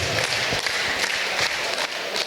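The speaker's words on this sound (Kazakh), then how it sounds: "Шапалақ қайда?" Applause from guests at a 70th birthday celebration, a steady dense patter of many hands clapping, loud and close, running without pause for a couple of seconds.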